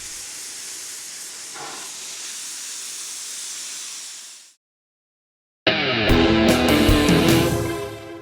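Steam locomotives in Niles Canyon let off a long, loud, steady hiss of steam, which cuts to silence and then gives way to a burst of louder mechanical and music-like sound.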